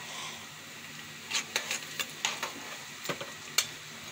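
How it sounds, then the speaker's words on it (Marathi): Onions frying in oil in a pan for a flat-bean curry, with a low sizzle and a string of sharp stirring clicks and taps from a spatula against the pan. "आपल्याकडे कांदे छान भाजून घेऊ"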